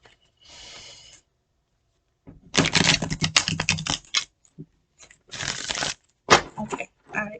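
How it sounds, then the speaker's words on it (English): A deck of cards being shuffled up close during a spiritual card reading, heard as several crisp riffling bursts of papery clatter separated by short pauses, with a faint murmur at the start and no clear talk. "I be shuffling these cards."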